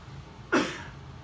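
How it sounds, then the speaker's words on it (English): A single deliberate cough from an adult in a casual home-studio setting, one short sharp burst that trails off quickly against a quiet background. "Now I'm going to cough."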